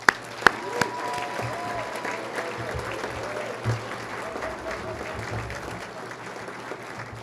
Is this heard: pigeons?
no